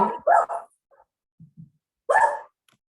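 A dog barks several times in close, loud bursts, with a few soft low yips or whimpers in the pauses between the louder barks.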